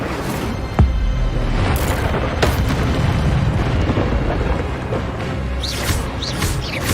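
Repeated Incendio fire spells cast in combat in Hogwarts Legacy, dense booming bursts over a continuous roar of battle effects, with several sharp pops scattered throughout.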